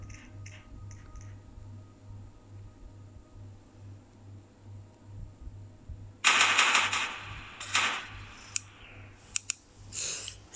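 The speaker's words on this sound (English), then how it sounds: "this one shoots 50 cal." A 50 cal machine gun fires in the video game Melon Playground, a rapid clattering burst breaking in after several seconds of low steady hum, followed by a few scattered sharp shots.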